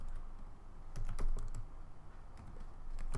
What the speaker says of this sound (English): So I will type in Ansible